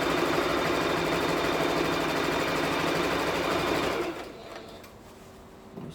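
A sewing machine stitches fabric for an Iro and Buba outfit, running with a steady, close mechanical whir for about four seconds before stopping, leaving faint handling sounds.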